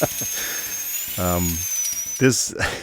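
A small toy drill on a Battletoads action figure whirs in one brief buzzing burst of about half a second, close by, with someone talking before and after it.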